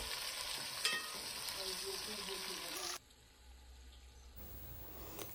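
Chopped onions fry in a pan for a broad beans (val) gravy, a steady hiss of sizzling with stirring, loud for about three seconds before the sound drops to a quieter, thinner sizzle.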